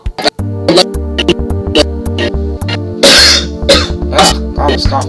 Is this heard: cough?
yes